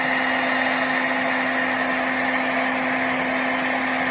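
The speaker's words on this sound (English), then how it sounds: "And then I will take a heat tool for embossing" A steady, close drone from an embossing heat tool with a constant high whine, running without pause throughout.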